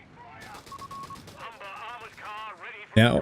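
Gunfire from Company of Heroes 3 strategy game combat, with a short burst of shots at a Dingo scout car ending in a sharp loud blast, over tonal game effects and sounds.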